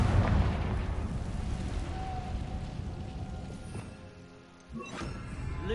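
A Confringo blasting curse from a Harry Potter video game goes off with a loud, rumbling explosive burst at the start, fading into crackling debris and a softer second impact near the end.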